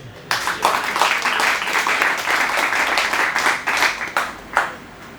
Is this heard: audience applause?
yes